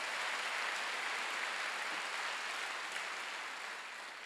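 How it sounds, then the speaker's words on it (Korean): A church congregation at a Sunday service applauding, a broad, even patter of many hands clapping that fades gradually toward the end. "박수로 하세요."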